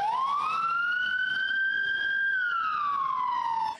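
An ambulance siren wails loudly and steadily as ambulances pull away one after another from the yard of School No. 3, its single tone sweeping up, holding, then sliding back down.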